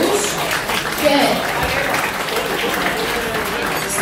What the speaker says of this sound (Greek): Ένα θερμό χειροκρότημα της αυτούς